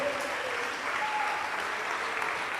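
A church congregation clapping hands in praise during a sermon, a steady wash of many hands heard a little distant in a reverberant hall, with no speech over it.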